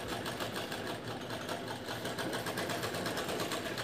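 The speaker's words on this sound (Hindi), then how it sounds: "जब हमें राउंड घुमाना है तो सुई अंदर रखेंगे और कपड़ा और पाइपिंग दोनों एक साथ ये इस तरह से घुमाया के फिर से सिलाई आगे बढ़ा लेना है" A sewing machine stitches piping onto fabric around a square neckline. Its motor runs with a rapid, steady mechanical whir and needle clatter, close and continuous throughout, with no speech.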